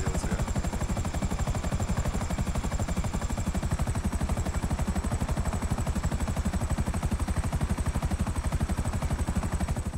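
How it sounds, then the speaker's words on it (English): Helicopter rotor in a video game, heard while the aircraft comes in to land on a nightclub rooftop: a steady, loud, rapid chopping beat that holds through the whole stretch with no talk over it. "Show off a little helicopter landing skills here."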